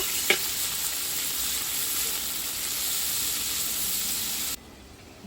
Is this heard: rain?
no